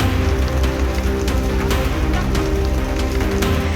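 Hailstorm with rain at Daringbadi in Odisha: a dense, constant patter of falling rain with sharp scattered impacts of hailstones striking surfaces, loud and unbroken throughout, no voices.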